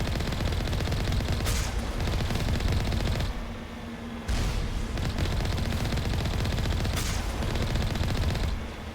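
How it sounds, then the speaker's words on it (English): An Alliance heavy turret in the Mass Effect video game fires long bursts of rapid, rattling gunfire, loud and close. One short pause interrupts the shooting before the fire resumes. "Why is Alliance heavy turret attacking?"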